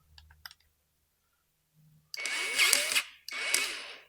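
A DCK battery-powered grease gun runs on its low setting, with two short bursts of motor whir close by after a few faint clicks and a near-silent pause.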